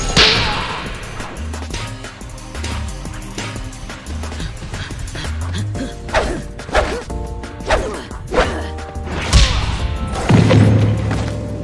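Punchy video-game boxing hits from Wii Boxing dubbed over a cartoon fight: a run of sharp thwacks, whooshes and crashing impacts, loud and close, layered over background music with no talking.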